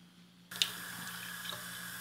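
After a brief quiet moment, water starts running from a tap into a bowl of bread dough ingredients in a steady, close stream that continues to the end.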